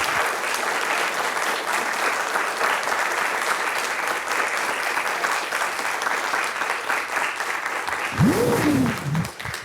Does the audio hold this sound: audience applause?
yes